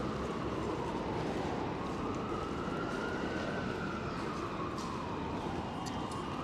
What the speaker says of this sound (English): Funny police car sound.